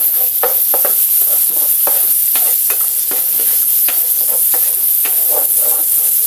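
Flaked smoked fish with garlic and onion sautéing in a pan, a loud, dense sizzle punctuated by repeated sharp spatula scrapes and stirring clicks at an uneven rhythm, close up with no speech.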